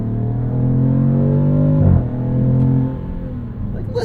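Twin-turbo inline-6 of a 2026 Dodge Charger Scat Pack sedan pulling hard from inside the cabin, a loud steady layered engine drone that rises briefly, dips at a gearchange and then carries on with fading road noise.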